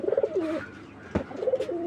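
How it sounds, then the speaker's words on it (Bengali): Pigeons cooing in short, soft throaty phrases as they are released, with a brief flutter or bump midway, close and clear. "এই দেখুন দর্শক কবুতরগুলো ছাড়া হয়েছে"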